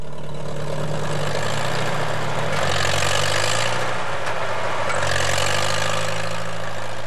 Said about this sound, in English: I had to wrestle the tractor through the heavy snow to bring loads of wood up from the bottomlands.